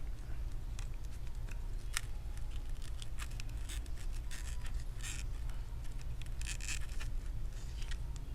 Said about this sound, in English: prying tool to cut that tape so it doesn't stay down on it